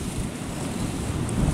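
Sea waves rush and splash against an overloaded barge out at sea, a steady loud roar of surf and wind with no voices.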